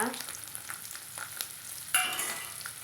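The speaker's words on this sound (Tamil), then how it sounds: "கடுகு பொறிஞ்சதும் நம்ம வெட்டி வச்சுக்கிற சின்ன வெங்காயத்தை வந்து சேர்த்துக்கலாங்க சேர்த்து வதக்கலாங்க" Mustard seeds and small shallots sauté in hot oil for a shallot sambar, giving a faint, soft sizzle with scattered light pops and a brief brighter burst near the end, heard alone.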